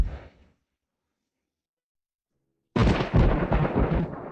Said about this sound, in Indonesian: Song Lan Yue paling takut pada Guntur